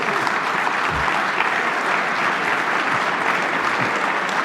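Sustained audience applause at a Canadian Club luncheon speech by a politician, a dense steady wash of many hands clapping, loud and even throughout with no break.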